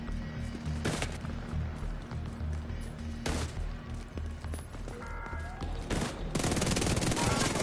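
Enemy gunfire in the video game The Division 2 crackles in repeated bursts, with sharp loud volleys rising near the end over a low, steady game background.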